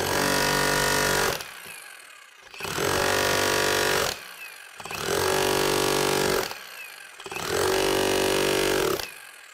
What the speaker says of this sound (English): When using the electric rivet driver, we want to make sure we hold it perpendicular to that guide block.